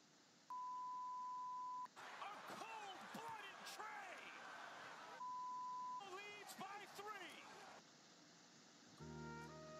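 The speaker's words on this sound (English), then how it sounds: "No, I just heard beeps." Electronic beeps, heard as two long steady tones, each followed by bursts of chirping, warbling electronic sounds, with a quick run of short tones at the end, all at a low level.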